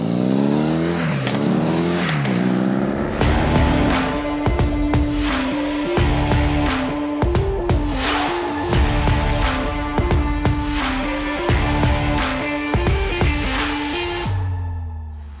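A BMW R nineT motorcycle's boxer engine revs hard and pulls through several gear changes, loud and close, with a steady rising and falling drone and no voices.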